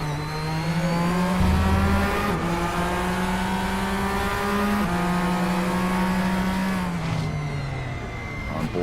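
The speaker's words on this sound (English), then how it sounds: "On board with Andy Darnell as his tires are letting go" Porsche 911 RSR GTE race car onboard at Suzuka, tires losing grip: a loud, sustained engine drone holds steady with shifting pitch, rising and dipping through gear changes, with faint scrubbing under the roar.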